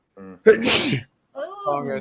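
A single sharp sneeze bursts out, loud and close, between short bits of a nearby voice.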